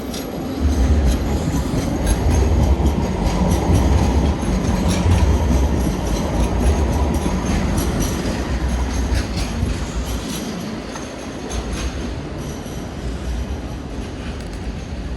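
A tram rolls past nearby with a loud rumbling roll and clattering wheels, swelling then slowly fading, with no voices.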